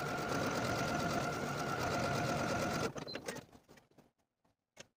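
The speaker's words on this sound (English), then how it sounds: "Sew all the buttonholes in place, also sewing a buttonhole into the neckband according to the marking from the pattern piece." A sewing machine stitches buttonholes on a dress, running in a steady rapid buzz close by, then stopping abruptly and followed by a few faint clicks and handling noises.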